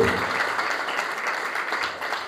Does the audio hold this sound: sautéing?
no